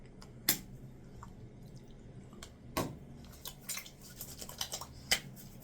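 Aftershave splash dabbed and patted onto the face after a shave with a Merkur 34C razor: a few sharp wet slaps and small clinks in a quiet room, with soft scattered tapping in between.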